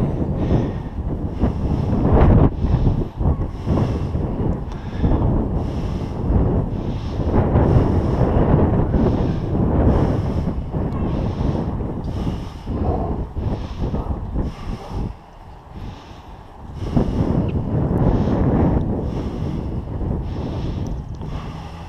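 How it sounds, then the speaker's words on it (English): Strong westbound headwind buffeting the microphone while cycling on a road in Plattsburgh, a continuous loud roaring rush that swells and eases, dipping briefly before returning. "Now we got the headwind. Now we're in the headwind right out of the west."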